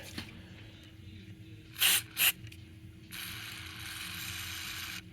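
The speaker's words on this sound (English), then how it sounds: "I'll lean it over this way and get to it basically by spraying it so that the liquid drips down." Contact cleaner sprayed into the controls of a large solid-state Packard Bell stereo during an overhaul: two short, close hissing bursts, then a longer steady spray, over faint mechanical clicking.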